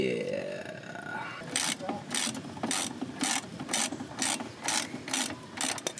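Ratchet wrench tightening the bolts on a waste valve of a Toyota Dolphin RV, a close run of rapid clicking strokes in regular bursts after a brief quieter start, with someone talking.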